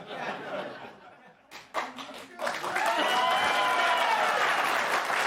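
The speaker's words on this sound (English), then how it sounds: "I don't need your pity applause" Studio audience applause on a late-night comedy talk show, starting as scattered claps and murmurs under a speaking voice, then swelling into loud, sustained clapping mixed with cheers.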